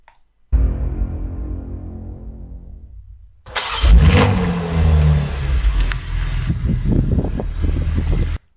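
A 2023 BMW Manhart MH4 GTR engine starts up loudly and nearby, settles into a brief idle after a short pause, then bursts into repeated sharp revs that rise and fall over a rumbling low end.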